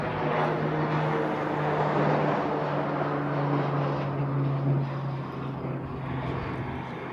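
A Hawaiian Airlines Airbus A380 taxiing at Honolulu airport gives off a steady, moderately loud jet engine hum with a low drone, continuous throughout and heard from some distance.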